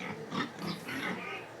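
Several pigs, including breeding sows, grunt and snort close by on a farm in a short burst of low, rough noises, with no one speaking.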